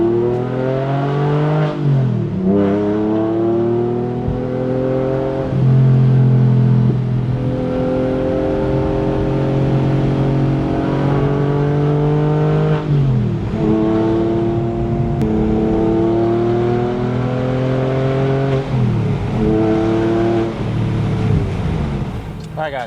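A Porsche 997 with an upgraded exhaust, recorded while driving, rises in pitch through each gear and drops at every shift, repeating several times. The engine stays loud and close, with brief talk over it.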